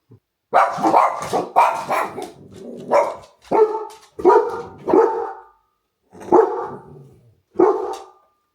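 A dog at home barks in a series of about eight loud, close barks, coming in irregular bursts separated by short silences, with no talking over them.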